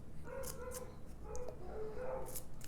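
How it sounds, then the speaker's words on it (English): Dogs barking indoors, several short yips and barks scattered irregularly, moderately faint over a steady background hum. "My dogs are barking."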